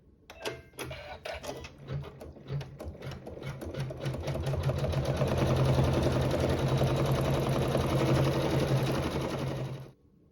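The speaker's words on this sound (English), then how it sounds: "we'll sew our quilting and our satin stitch" A home embroidery sewing machine stitches quilting and satin stitch on a fall quilt block, its rapid needle chatter building from brief bursts into a steady, loud mechanical whir that stops abruptly near the end.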